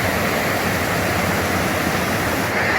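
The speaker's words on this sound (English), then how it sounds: "Listening to that water sure is soothing." A stream flows along a hiking trail on the Superior Hiking Trail, a steady, dense rushing and splashing that fills the whole clip with no pauses and no voices.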